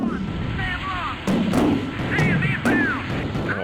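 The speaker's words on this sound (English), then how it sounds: "all of this flak and AAA that's here" Anti-aircraft flak and AAA fire over a city in the combat flight simulator Strike Fighters 2, a steady rumbling barrage punctuated by several sharp bursts of explosions against a continuous engine drone.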